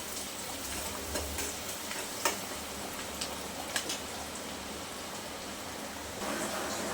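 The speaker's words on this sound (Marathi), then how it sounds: "कांदा आपल्याला छान गुलाबी रंग फ्राय करून घ्यायचा आहे" Chopped onion fries in a pan until pink, a low, soft steady sizzle with occasional faint ticks and scrapes from stirring, quiet throughout.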